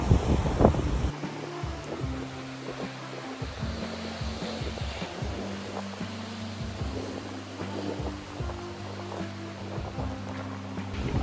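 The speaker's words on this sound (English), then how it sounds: "I should have worn a hat, it's so windy." Strong wind buffets the microphone at a seaside foreshore in Calabria, Italy, with a steady roar and gusty rumble layered with low droning tones and faint surf, and no one speaking.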